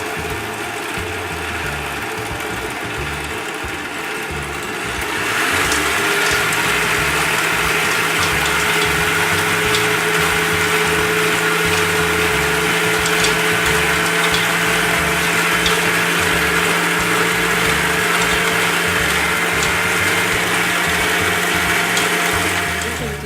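A food processor whirs steadily as it mixes ground almonds and sugar, starting with a quieter hum and then switching to a loud, constant motor drone with a grinding rattle that lasts about twenty seconds.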